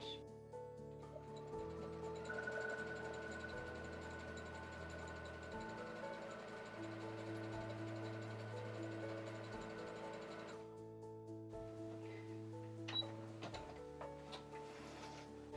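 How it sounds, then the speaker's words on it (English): Sewing machine running steadily at a very short stitch length to form a tight zigzag stitch, a continuous close mechanical whir that stops and leaves faint handling noises. "using the foot pedal, you begin to sew"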